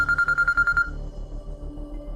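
A telephone rings during a call, about eight quick electronic pulses in a rapid steady run, then it stops and a low hum remains.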